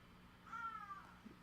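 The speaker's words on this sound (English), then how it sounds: "I don't know if you can hear that, folks, but the cat says hi" A house cat gives a single short, faint meow, with quiet room tone around it.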